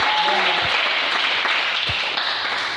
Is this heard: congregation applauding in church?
yes